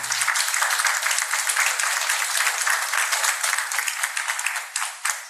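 A church congregation gives a sustained round of applause: dense, steady clapping from many hands that holds loud for about five seconds and thins slightly at the end, with no talking over it.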